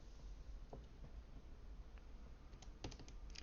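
Keys tapped in short, uneven bursts while numbers are entered for a calculus calculation, with a scattered few presses early and a quicker cluster near the end, all faint over a steady background hiss.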